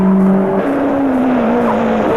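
A Nissan turbo race car runs a timed lap during the 1983 Bathurst 1000 Hardies Heroes shootout. Loud, close whining tones slide downward as tyres slip and squeal over the continuous roar of the car.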